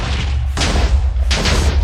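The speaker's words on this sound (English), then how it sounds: "We're going to try the matter cannon on it." Deep booming blasts from a matter cannon firing in the Minecraft SkyFactory 5 modpack, two loud low thumps over a constant heavy rumble, with no one talking.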